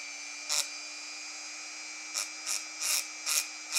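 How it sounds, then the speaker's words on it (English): Short bursts of a high-pitched Dremel rotary tool deburring a drilled metal bolt, one brief pass then four quick ones in succession, over a steady background hum. "I'm gonna take my Dremel and just clean up this bolt and make sure that I don't have any burrs"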